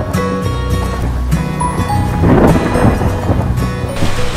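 Loud, dense rain pours steadily with deep rumbling underneath, like a storm close by; no voices.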